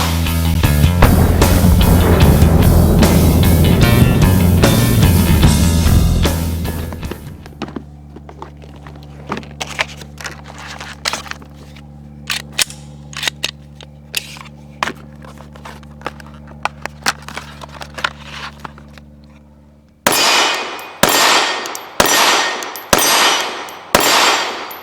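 A Canik TP9AS pistol fires in a quick string of loud, evenly spaced shots at the close, after a stretch of metallic clanks and clicks from handling; a loud, dense passage opens the recording.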